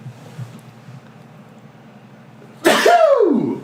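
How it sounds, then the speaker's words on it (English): A loud, close sneeze bursts out suddenly after a stretch of quiet room tone with low murmuring, its breathy blast trailing off over about a second. "Sneeze. You can sneeze, just not on me."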